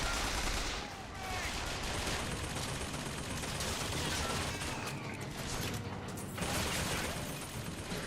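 Continuous rapid turret gunfire in Bioshock Infinite, a dense stream of shots with mechanical clatter, loud and sustained throughout.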